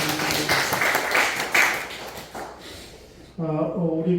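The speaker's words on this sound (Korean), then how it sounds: "우리 박수 한번 부탁드리겠습니다" A church congregation at a Sunday worship service claps in a burst of applause that fades after a couple of seconds, followed by someone speaking.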